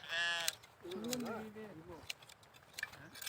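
Sheep bleat loudly at close range on a village pasture while they are milked and sheared, with several wavering cries over faint clinks and a person talking nearby.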